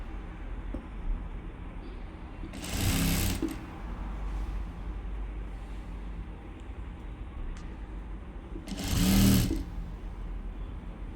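A sewing machine stitches folded-over fabric hem in two short, quick bursts of rapid whirring, close and distinct against a quiet room background.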